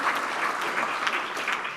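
An audience at a Camp Enterprise awards ceremony claps in a thick, even wash of applause that carries on steadily throughout, with no speech on top.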